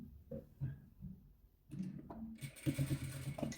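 Sewing machine stitching red and white patchwork squares, with short bursts of stitching, light clicks and handling, then a steadier, louder run near the end, close and fairly quiet.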